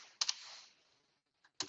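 A few quiet computer keyboard key clicks while entering an amount in a crypto bridge to Arbitrum, two quick taps, a gap, then another tap, soft and close.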